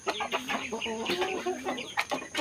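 A four-month-old Belgian Asil stag close by, giving a run of short clucking calls in an irregular rhythm, with no voices over it.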